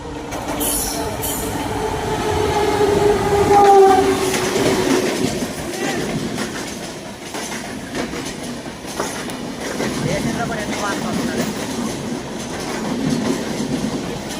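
A train rolls past close by, wheels squealing and rails clattering in a continuous rumble, with people talking in the background.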